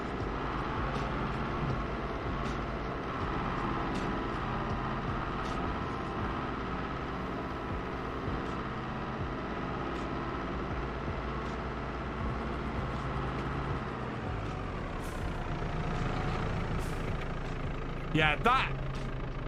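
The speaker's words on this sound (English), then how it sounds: "that is going to be a much more powerful tractor, that Kubota" A Kubota tractor in Farming Simulator 22 runs with a steady, droning engine hum throughout, moderately loud and continuous, while a person talks over it.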